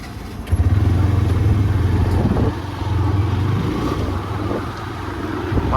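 A motorcycle heading out on the road to college, its engine giving a steady, close drone mixed with wind rush, with the pitch shifting slightly as it rides.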